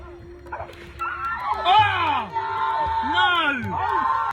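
A small dog confronting a crocodile yips and whimpers in high, rising and falling cries, close and fairly loud, with voices and crowd-like noise underneath.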